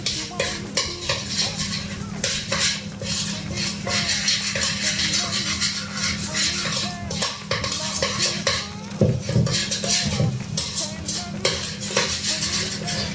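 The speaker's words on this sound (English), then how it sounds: "now we mix them all together" Apple pie filling with lemon juice being stirred in a bowl, a steady run of scraping and clinking of a utensil against the dish, close and fairly loud, with a faint voice briefly in the background.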